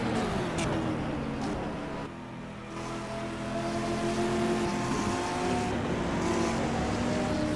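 Chevrolet Corvette and Porsche GTE race cars at Spa-Francorchamps in an FFSCA GTE Series round, with the Corvette on fresh softer-compound tyres and a loud, sustained engine roar that rises and falls as the cars speed by.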